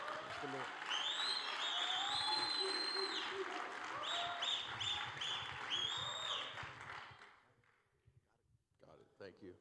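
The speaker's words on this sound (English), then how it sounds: "Give Pastor Albert a hand clap as he comes" Congregation clapping at a church conference session, a loud dense burst of hands lasting several seconds under a voice that carries over it, then dying away to near quiet with a few scattered sounds at the end.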